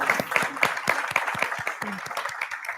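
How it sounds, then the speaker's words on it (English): An audience at a youth summit panel applauds the speakers, giving dense, steady clapping from many hands throughout, with a faint voice under it. "Can we give a round of applause to the speakers"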